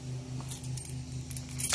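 A bunch of keys jangling close by in a converted school bus, a short burst of bright metallic jingling over a faint low hum.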